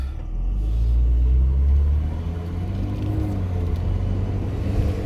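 A modified car rumbles and accelerates away in drive with a low, rising engine drone and road noise, loud and close throughout.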